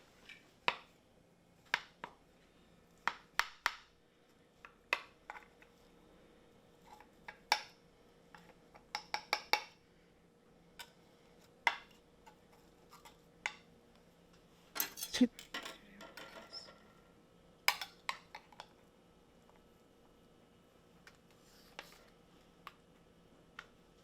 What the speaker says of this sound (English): Let me see if I can just cut it with a spatula